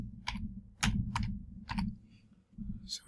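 Computer keyboard keys clicked in quick separate bursts as a short word is typed, close and fairly quiet, with pauses between the clusters of keystrokes.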